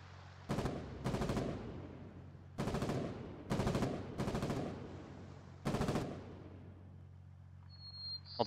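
Several short machine gun bursts in the Foxhole war game, loud and close, separated by brief pauses, with the last burst fading into a low, steady rumble.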